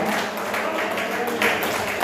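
A church congregation claps together in sustained, dense applause, loud and close, with a faint voice mixed in.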